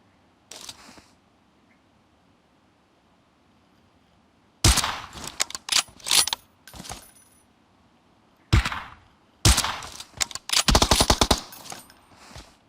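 Bursts of gunfire in PUBG Mobile on the Vikendi map: sharp rapid automatic volleys and single shots in clusters separated by quiet stretches, loud and close.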